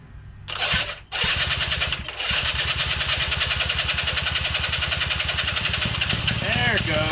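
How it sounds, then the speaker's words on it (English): A long-dormant Polaris 50cc ATV engine is cranked by a rigged starter motor and catches, settling into a loud, steady, fast-pulsing run close by after a brief stutter; a voice is faintly audible. "So I just rigged up something to make the starter motor instead of kicking it."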